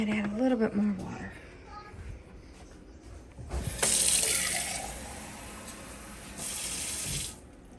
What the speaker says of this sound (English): Might add a little bit more water.